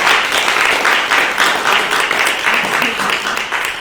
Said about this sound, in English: So can we please give him a round of applause?